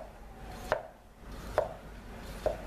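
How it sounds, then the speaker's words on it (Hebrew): A blade slicing through a tomato on a cutting board with a backward-pulling cut, three soft, distinct strokes spaced evenly, close and quiet with no talk. "אני אתחיל לחתוך דווקא מהשטח הקטן לכיוון השטח המיושר, לכיוון השטח הגדול, כך שהעגבנייה תישאר יציבה"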